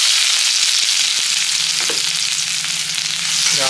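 Chopped raw onion frying in hot mustard oil in a kadai, a steady close sizzle and crackle with a few soft stirring knocks, no talking.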